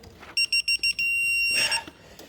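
Four short electronic beeps in a quick row from a Harbor Freight Quinn digital angle torque wrench, then one longer sustained beep, bright and close in a quiet space.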